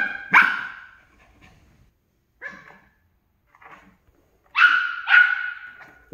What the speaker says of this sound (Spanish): Sí, ya está ladrando.